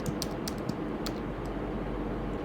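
Typing on a computer keyboard while entering quiz content, a run of light irregular key clicks close by under a faint background hum.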